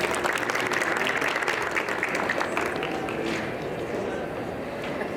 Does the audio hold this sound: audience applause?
yes